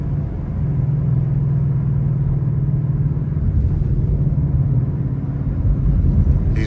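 A modified Ford 5.0 V8 car with a ten-speed transmission drives down a dark back road, its engine a steady, loud, droning rumble throughout with a slight rise in intensity near the end.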